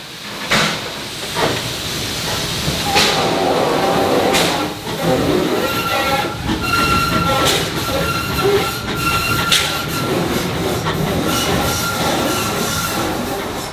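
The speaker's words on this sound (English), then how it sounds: "So they're about to break apart this train to put it away for the day." Heritage railway train at a museum yard being uncoupled for the day, a loud, continuous mix of hissing steam, rumbling cars and intermittent clanks and squeals, close by throughout.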